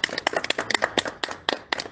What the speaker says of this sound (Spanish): Un fuerte aplauso para nuestras mamacitas y para todas las mamacitas de la audiencia.